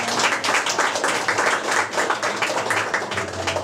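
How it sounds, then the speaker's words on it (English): Dense, continuous clapping from a parents' audience at a school annual day, a steady wash of many hands close and loud for several seconds. "Parents, please give a big applause."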